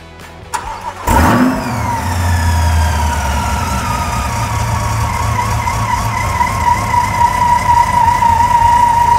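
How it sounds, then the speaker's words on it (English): A Lingenfelter Stage 3 supercharged Corvette C8 engine starts with a sharp burst and settles into a steady idle with exhaust valves closed, a high, sustained supercharger whine riding above the rumble. "So we have the exhaust valves closed right now so we can really hear the supercharger whine."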